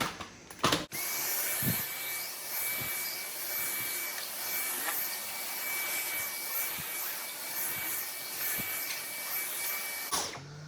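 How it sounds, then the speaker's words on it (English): A Dyson Power Mop vacuum cleaner runs steadily in a kitchen with a constant whirring hum and a thin high tone, broken by a few soft bumps as it moves, and a clunk as it starts and stops. "Okay, let's finish vacuuming."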